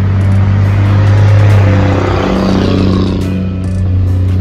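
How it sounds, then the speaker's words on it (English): A loud truck engine rumbles close by, its low drone swelling and fading as it rolls past. "Gotta excuse this loud ass truck that just rolled past."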